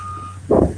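Reversing beeps from a construction dump truck at a work site, a steady electronic tone with the truck's engine rumbling up loudly beneath it.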